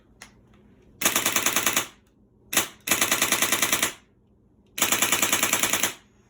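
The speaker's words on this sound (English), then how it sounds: "this right now is set to the authentic firing rate of an RPK" Airsoft RPK firing full-auto bursts at an authentic rate, three loud close bursts of rapid, evenly spaced shots, each about a second long, separated by short pauses, with no talking.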